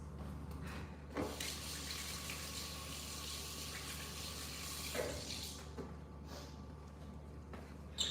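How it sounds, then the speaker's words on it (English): A sink tap runs steadily while hands are washed under it, a close, continuous splashing stream with a few brief louder splashes and clatters and no talking. "let me wash my hands"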